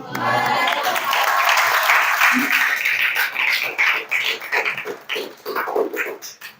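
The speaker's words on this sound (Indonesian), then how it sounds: "kasih aplaus dulu" Audience applause closing a group presentation in a classroom teaching session, a steady wash of clapping hands that holds for several seconds and then thins into scattered claps, with some voices mixed in.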